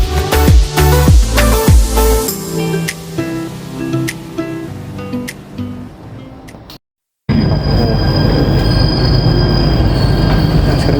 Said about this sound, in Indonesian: Nah, sekarang kita udah mau keluar dari MRT-nya nih.